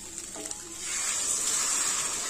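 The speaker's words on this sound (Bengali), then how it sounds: "পরিমাণ মতো গরম জল দিয়ে দিয়েছি" Hot water is poured into a pot of browned meat and fried potatoes, making a soft, steady, hissing gush that rises after a quiet start and keeps going close by.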